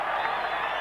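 Football stadium crowd at a 1990 Colombia versus USSR friendly, a steady roar of cheering with scattered whoops, brief and fairly distant-sounding.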